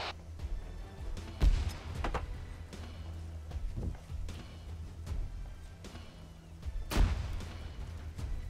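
Frag grenades detonate during a Marine assault in a military shooter, two heavy booms with sharp onsets several seconds apart over a background of steady rumble and scattered gunfire.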